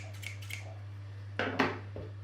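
A few crisp metallic snips and clicks of scissors opening and closing, close up, over a low steady hum with no talking.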